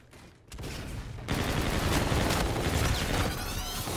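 Gunfire in the shooter game Infinite Warfare: a brief quiet lead-in, then loud, dense automatic bursts that fill the rest of the clip with no talk.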